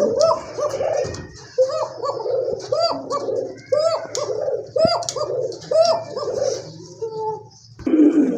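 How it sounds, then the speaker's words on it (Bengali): A thin-voiced male running pigeon coos loudly and close, a steady series of rolling coo phrases repeating roughly every second, with a few dog-like barks or yelps mixed in. "রানিং একটা নোট দেখেন মাশাআল্লাহ, খুবই সুন্দর ডাকে, চিকন গলা নোট কবুতর"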